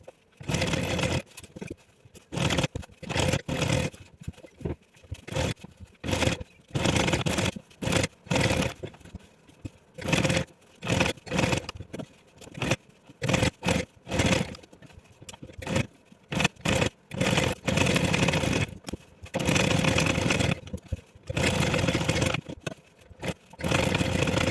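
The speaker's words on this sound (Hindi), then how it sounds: "अब हमें इसी निशान पर सिलाई करना है जिससे कि हमारा फोम और कपड़ा एक दूसरे में सेट हो जाए।" A sewing machine stitches foam and fabric together for a bottle cover in repeated bursts of rapid whirring, stopping and starting throughout at close range with no talking.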